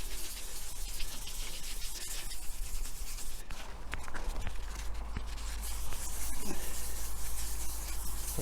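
Scratched plastic headlight lens being wet-sanded by hand with fine-grit paper, a steady close rubbing and scraping that runs continuously with slight swells in intensity.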